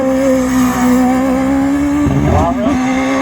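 Chevrolet V8-powered MP92 hillclimb race car with a manual gearbox at the Harewood Speed hillclimb roars past close and loud, the engine note holding steady before dropping and shifting pitch as it changes gear, with a brief tyre squeal.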